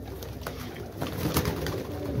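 Pigeons coo continuously in a loft, a soft low burbling chorus of overlapping birds heard close up with faint rustling.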